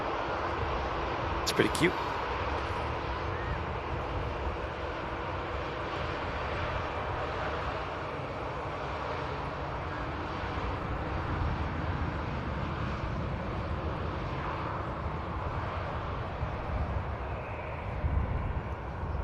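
A Lufthansa airliner in special livery taxis out and lines up at Manchester Airport, its engines a steady broad rumble held at an even level throughout, with a brief voice and a sharp tone near the start.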